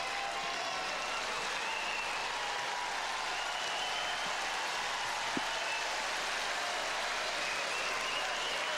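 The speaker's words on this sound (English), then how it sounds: "Sustained applause for the two of them as they move on out." Sustained applause from a large tennis crowd at the 2005 Australian Open, fourth-round match Agassi against Johansson, a steady even wash of clapping held throughout with no break.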